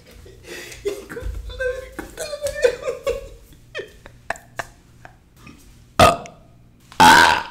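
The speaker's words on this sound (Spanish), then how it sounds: "ese es un eructo de una lata de coca." Loud, close burps after drinking a can of Coca-Cola erupt, two strong belches near the end following softer throaty sounds, giggles and chatter.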